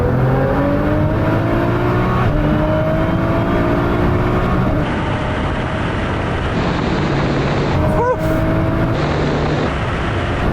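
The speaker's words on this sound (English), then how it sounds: "Sam, what we're going to do this time is 50 mile an hour third gear roll on" A Nissan GT-R pulls hard in third gear from a 50 mph rolling start, its engine droning loud and steady with rising tone beneath heavy wind rush throughout.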